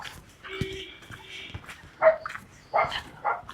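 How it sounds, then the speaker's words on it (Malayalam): A dog barks a few times at moderate distance in a rocky hill village in Vagamon, Idukki, short sharp yelps in quick succession over a faint background hum. "അവിടെ ഒരു പട്ടി"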